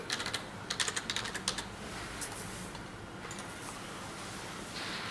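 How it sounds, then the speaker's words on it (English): A short burst of quiet key clicks on a computer keyboard as a password is typed, a quick run of taps followed by a few scattered presses over a faint background hiss. "I have to put in a password."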